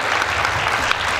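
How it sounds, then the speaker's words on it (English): A short burst of loud, dense clapping from an audience at a team-building event, steady and continuous throughout. "Applaudir le plus fort possible"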